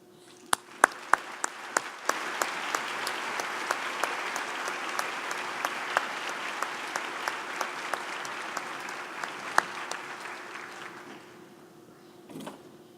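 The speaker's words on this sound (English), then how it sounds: "may I ask you to join me in giving a warm round of applause for the Brian" A convocation audience at McGill University applauds the Brian Sand Quintet, broad steady clapping filling the hall for most of the stretch, with a few sharp nearer claps standing out, then fading away toward the end.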